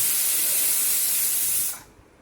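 Loud, steady hiss of steam blasting from a pressure cooker valve after whistling while cooking Kerala aviyal, cutting off abruptly near the end to quiet.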